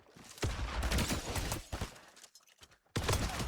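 Fortnite gunfire during headshot practice: loud sustained bursts of rapid shots, a quieter lull in the middle, then another strong volley resuming at the end.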